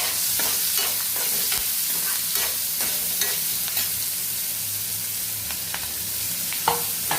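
Sliced onions and green chillies fry steadily in a hot pan for a curry with mutton, prawns and eggs, a dense continuous sizzle broken by repeated scraping stirs of a spoon against the pan, close up with no talking.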